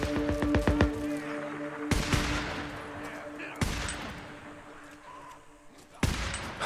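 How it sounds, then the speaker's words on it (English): Gunfire in the video game Days Gone: several loud, sharp shots ring out spaced a couple of seconds apart, each with a reverberant tail, under faint background ambience. "Gunshots. What the hell?"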